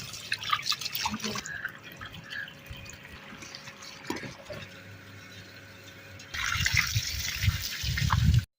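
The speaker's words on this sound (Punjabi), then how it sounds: "ਪੌਦੇ ਨੂੰ ਮੈਂ ਪਾਣੀ ਲਗਾ ਦਿੱਤਾ" Water poured onto a plant at a village mud house in Punjab, Pakistan, heard as a soft splashing and trickling that grows louder and steadier in the last couple of seconds, after quiet ambient sound.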